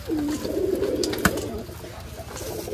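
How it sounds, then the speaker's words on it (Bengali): Pigeons coo in a low, rolling, continuous murmur at a pigeon farm in Pabna district, close and steady, with one sharp knock midway. "কিছু জাগ কবুতরের বাচ্চা,"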